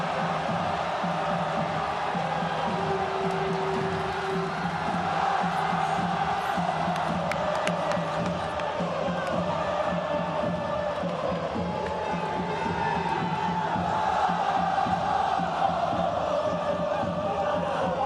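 A home crowd at a World Baseball Classic game between Italy and Chinese Taipei roars and cheers steadily after a game-tying home run, a dense sustained stadium wash with occasional whoops rising out of it.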